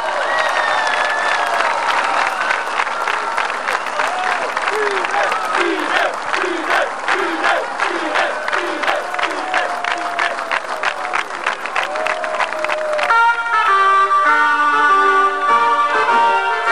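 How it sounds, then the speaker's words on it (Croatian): Loud, sustained applause from a large crowd at a 2003 sports games award ceremony in Sjenica fills the hall with dense, rapid clapping and some cheering, and music comes in at the end. "Jedan gromki aplauz."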